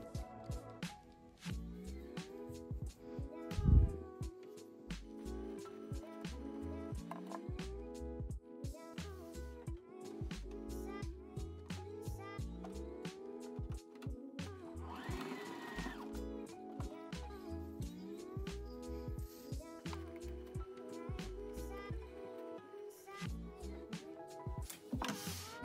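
Sewing machine stitching the side seams of a cottagecore dress, in repeated short whirring bursts separated by pauses, with clicks and handling noises, fairly quiet and close.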